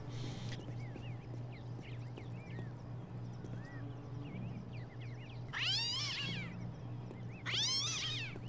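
Cats meowing in the video game Postal 2, two loud drawn-out meows near the end over a steady low hum and faint background chirps.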